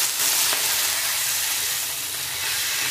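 Drumstick leaves and mixed vegetables frying in a pan and being stirred, a steady broad sizzle with hiss that runs through the whole stretch at close range, with no talking.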